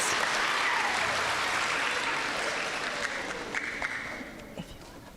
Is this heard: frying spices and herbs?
no